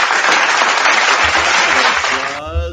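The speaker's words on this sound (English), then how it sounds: "Let's do a little applause." Audience applause fills the space with dense, steady clapping from a room full of people, loud and continuous, before tapering near the end as a voice begins to speak.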